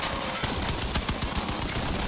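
Fully automatic Prometheus V plasma emitters in the vehicle combat game Crossout fire in a rapid, dense stream of sharp bursts, loud and close, continuing without pause.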